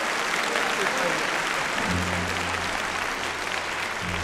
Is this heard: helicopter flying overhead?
no